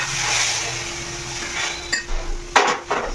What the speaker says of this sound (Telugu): తాలింపు అయిపోయిందమ్మా ఇక్కడ, ఇంకా వేసేస్తున్నా